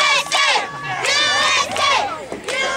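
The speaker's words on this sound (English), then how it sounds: "Crowd giving Akbar an earful" A boxing arena crowd during the James Claxton vs Ha-Shem Akbar fight jeers and shouts at a fighter, a loud, dense mass of voices rising and falling in waves throughout.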